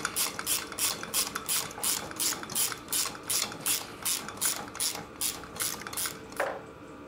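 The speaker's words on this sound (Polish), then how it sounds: "I używamy tego ściągacza." A bearing puller turned to remove the crankshaft from a D50B0 motorcycle engine, giving a steady run of about twenty rhythmic ratcheting clicks, close and clear, ending with a single sharper knock.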